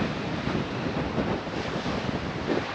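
Strong wind sweeps over a seaside cliff in Crimea near Koktebel, a loud, steady roar buffeting the microphone with slight gusty swells and no talking.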